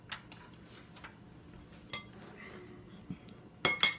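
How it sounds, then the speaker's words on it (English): Brownie cake mixture is spooned and globbed into a pan, with soft scraping and light clinks of a utensil against the pan, ending in a couple of sharper metallic clinks close up. "you're going to want to kind of glob the cake mixture into the pan"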